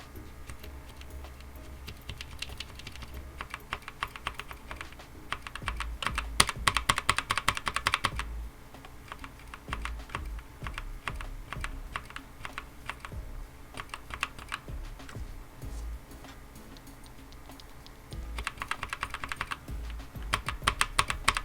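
Outemu red linear mechanical keyboard switches being typed on, with close, fast bursts of clacking keystrokes and brief pauses between runs, with no talking.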